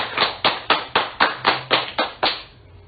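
Wedding guests give a round of applause at a ceremony, heard as about nine sharp, evenly spaced claps or taps, fairly close and loud, that stop abruptly and leave quiet.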